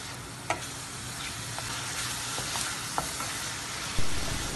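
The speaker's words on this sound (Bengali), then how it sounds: "7 থেকে 8 মিনিট আমি চিংড়িটাকে ভালোভাবে কষিয়ে নিচ্ছি।" Ten to twelve medium prawns sizzle and fry in a cooked-down spice paste for prawn malai curry, with a steady close sizzle broken by occasional sharp stirring scrapes and clicks of a utensil in the pan.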